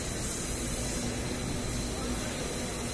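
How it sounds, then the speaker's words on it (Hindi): AC refrigerant gas hisses steadily as it is charged into a Mahindra Scorpio's air-conditioning system in a workshop, a constant loud broadband rush with no breaks and no talking. "450 ग्राम गैस मारता हूँ इसमें"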